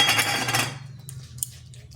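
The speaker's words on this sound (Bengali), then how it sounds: "আর এইরকম চাটুর সাহায্যে একটু ভালো করে নেড়ে নিচ্ছি" A spatula scrapes and stirs a dry spiced potato and lentil mixture in a pan with a quick burst of rough scraping, then a pause and a few light metallic clinks.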